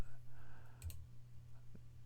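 A single sharp mouse click on an on-screen button, quiet and close over a low steady hum, followed later by a fainter tap.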